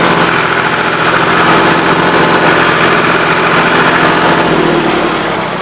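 A 3910 tractor engine runs loud and steady throughout, revving up with a sustained, rough mechanical drone close by, easing slightly toward the end; no talk is heard over it.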